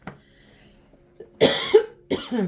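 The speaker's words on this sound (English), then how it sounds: "Sorry for the coughing, allergies." Several sharp allergy coughs burst out close to the mic, two strong ones near the end after a few faint throat sounds.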